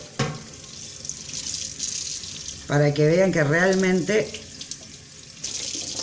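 Cold tap water runs steadily over bottles being washed in a sink, a continuous splashing hiss close by, with someone briefly speaking Spanish partway through.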